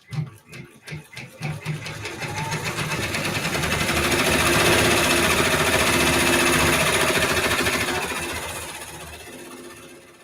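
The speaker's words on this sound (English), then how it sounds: "And now it's just going to finish stitching the rest of the design." An embroidery machine stitches a Christmas gingerbread quilt design, starting with a few distinct mechanical thumps and then speeding into a loud, steady, rapid whirring chatter that slowly fades near the end.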